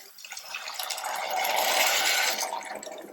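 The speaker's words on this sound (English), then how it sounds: "now I'm going to add 2 cups of water" Water poured into a pot of rice that is cooking in a little oil, a steady splashing fill lasting a few seconds and rising slightly in the middle, close by with no talk.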